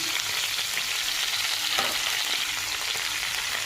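Cauliflower frying in a pan with a pinch of salt, a continuous dense sizzle up close with one brief stir or clatter midway.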